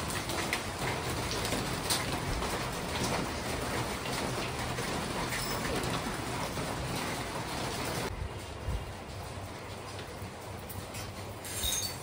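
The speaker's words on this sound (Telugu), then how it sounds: "బయట అయితే ఫుల్ వర్షం వస్తుంది" Heavy rain pouring outside during a festival day at home, a dense continuous wash of drops on surfaces that holds steady, then eases slightly toward the end, with no voices.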